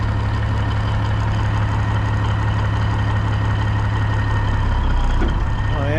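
A Peterbilt truck engine idles steadily after a cold start, a continuous low rumble with a faint knock that holds at the same level throughout, with a brief shift near the end.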